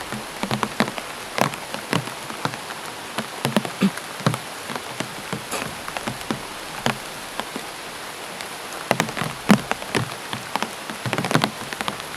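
Rain falls steadily, a dense hiss with scattered sharp drops tapping a nearby surface, continuous and close with no voices.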